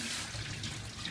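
Hot water poured off from a cooking pot into a sink, a brief steady splashing rush of liquid, close and fairly quiet.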